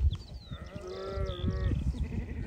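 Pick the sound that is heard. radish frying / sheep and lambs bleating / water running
sheep and lambs bleating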